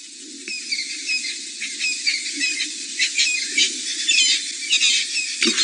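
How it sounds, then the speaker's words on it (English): Birds in the African bush at dawn fill the air with busy overlapping squawks, chirps and calls, close and loud, in a continuous chorus with no talking. "you can hear all the birds this morning as well, all around us."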